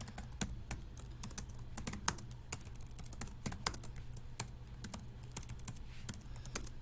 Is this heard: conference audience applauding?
no